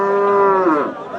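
A single cow gives one clear, close moo at a livestock market ahead of Eid, a sustained bellow that bends downward as it fades.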